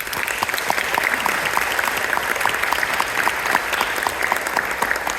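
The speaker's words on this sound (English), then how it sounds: "we'd love to give a round of applause to any of our faculty, staff, and administration out there tonight" Steady, full applause fills a high school spring concert hall, many hands clapping evenly with a few crisp nearby claps on top and no talking.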